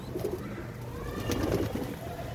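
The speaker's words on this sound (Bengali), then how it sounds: "এই যে কালো কবুতরটা, এখানে অনেক কবুতর মাঝে সে খাবার খাচ্ছে" Pigeons coo softly in low, rolling calls while a black pigeon feeds among many others, gathering food for its chick; the cooing repeats close by over faint background noise.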